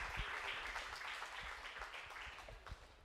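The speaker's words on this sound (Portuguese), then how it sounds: "Dê o seu grande aplauso ao Senhor Jesus." Congregation applause in a church, a dense field of clapping with scattered louder claps, fairly soft and steady throughout with no one speaking.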